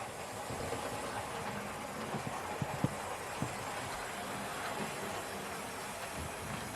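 A Hornby model locomotive with a quiet motor and quiet running gear runs steadily, a soft continuous whirr with a few faint clicks from the track.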